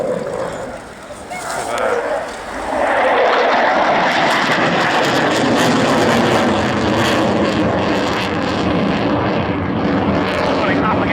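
A MiG-29 jet fighter roars loudly and continuously through a tight vertical flying display at the Yeovilton Air Day, its engine noise swelling and building to a sustained, powerful thunder while an announcer talks over it.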